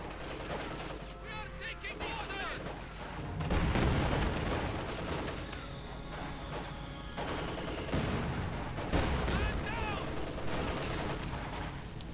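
Company of Heroes 2 video game battle gunfire: bursts of shots and heavier booms run continuously through the clip, dense and loud, with a commentator's voice talking over parts of it.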